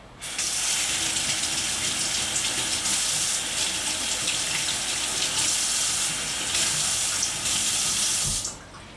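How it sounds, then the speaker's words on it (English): Tap water runs steadily into a kitchen sink while an avocado is washed, a continuous close gushing that cuts off abruptly near the end. "Wash the avocado."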